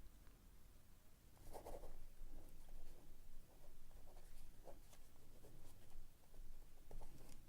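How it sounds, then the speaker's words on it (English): Pen scratching on paper in a quiet ASMR setting, heard as soft, intermittent scribbling strokes over a faint hiss, close and gentle, without talk. "Write those all down."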